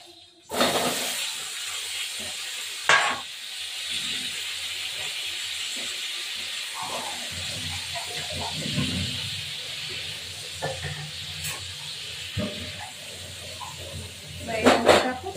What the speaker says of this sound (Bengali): একটু লবণ দিয়ে এটা ভাজবো।